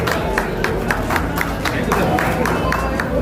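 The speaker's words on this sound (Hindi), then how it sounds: "तालियों में कमी नहीं चाहिए" A crowd at an awards ceremony for doctors claps steadily in rhythmic unison, loud and close, with a low hum and murmuring beneath.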